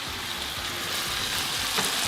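Shrimp and vegetables sizzle in butter in a pan, a steady, close, hissing fry with a soft crackle throughout and no talking.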